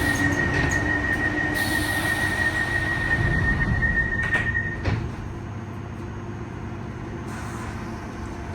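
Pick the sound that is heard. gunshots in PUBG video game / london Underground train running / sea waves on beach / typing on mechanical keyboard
london Underground train running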